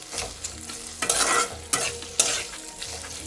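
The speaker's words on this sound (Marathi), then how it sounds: "हा आहे आपला तडका." Tempering for kadhi sizzles and crackles loudly in a hot pan, with sharp bursts of spitting oil rising and falling over a few seconds, and no voices.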